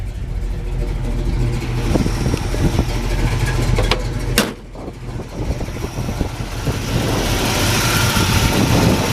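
A 1963 Chevrolet Nova hardtop with a small block V8, headers, and HEI ignition rumbles loudly at idle, close and steady, with a brief click and a dip in level midway before the throaty exhaust burble resumes.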